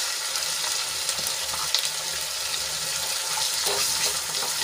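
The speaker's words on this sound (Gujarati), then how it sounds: "આદુ લસણ અને મરચાંની પેસ્ટ થોડી સંતળાઈ જાય એટલે એમાં આપણે ડુંગળી એડ કરી લઈશું" Chopped onion is added to ginger, garlic and chili paste sizzling in a pan, making a steady, close frying hiss with faint stirring clicks and no voices.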